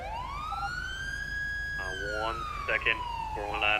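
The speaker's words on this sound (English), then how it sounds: "I can't hear you due to siren." A police siren in a night-time police roleplay game wails steadily, its pitch slowly rising then falling, loud and close, while a voice briefly speaks over it near the end.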